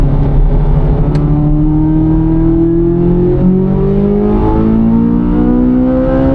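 A 2024 Corvette Z06 with a 670 HP engine accelerates hard under a loud, steady engine roar, its pitch climbing in sweeps and dropping back briefly at each gear shift, with no talk.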